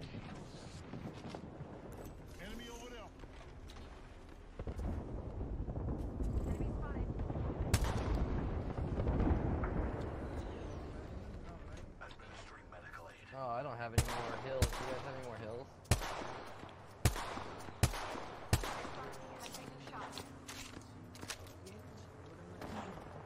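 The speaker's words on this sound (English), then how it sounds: "Getting shot at." Rapid bursts of gunfire in the battle royale game Apex Legends, loud and close, with sharp, separate shots clustering toward the end over steady game noise and a rumbling background.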